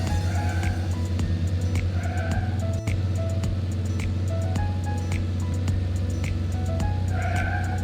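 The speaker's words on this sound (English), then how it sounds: "Drive the truck to deliver goods." An animated cartoon delivery truck drives along a road, its loud, steady engine drone running throughout, with repeated short tire squeals and skids over game-like effects.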